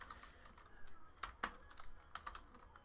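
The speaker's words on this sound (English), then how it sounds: "let's type in the hits really quick" Quiet clicks of typing on a computer keyboard come in short irregular bursts of keystrokes, close by and soft, with a few sharper taps standing out.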